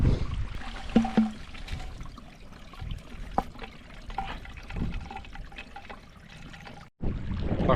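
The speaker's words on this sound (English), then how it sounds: "I found this little stream coming straight from the mountain" A small mountain stream in the Scottish Highlands trickles and gurgles steadily while a bottle is filled at a cold winter campsite. The flow stays close and fairly quiet, with a few brief knocks and splashes and a short drop near the end.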